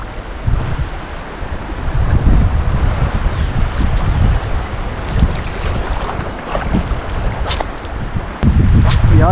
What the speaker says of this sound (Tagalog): Lakas talaga ng hangin eh.